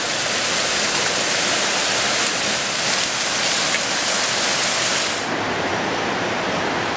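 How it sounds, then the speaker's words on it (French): A waterfall in the Vercors crashes onto rocks below, giving a loud, unbroken hiss of splashing water that dips slightly in level near the end. "Et voilà une cascade qui s'éclate."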